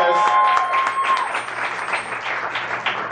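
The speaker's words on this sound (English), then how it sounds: "I wanna give a special round of applause to all the adults who are here to listen tonight" At a youth poetry slam in Tucson, the audience breaks into a round of applause for the adults present, a fairly loud, dense patter of clapping that starts strong and thins slightly over about three seconds.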